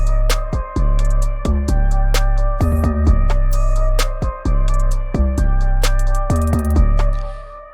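A looped drum beat plays from a DAW, with punchy kicks, sharp snare hits and steady hi-hat ticks repeating in a tight, loud, dry pattern with no talking.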